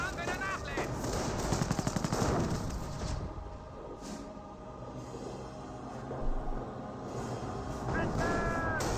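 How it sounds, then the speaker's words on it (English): Rifle gunfire rattles in Company of Heroes, with bursts of shots and machine-gun fire amid battle noise while a commentator talks over the action. "the Volksgrenadiers are receiving some fire there from the riflemen"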